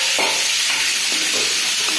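A spatula stirs mango chutney in a hot pan, making a constant close sizzle with a few soft scraping strokes, no talking.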